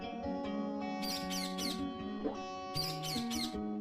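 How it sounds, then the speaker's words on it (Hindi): Cartoon bird in a cage chirping in quick repeated bursts of bright tweets, two clusters of three over a layered musical background. "ये पक्षी बहुत शोर मचा रहा है।"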